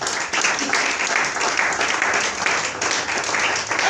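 Church congregation applauding together during a sermon, a steady, dense wash of clapping that holds evenly for the full stretch, with faint voices mixed in beneath it.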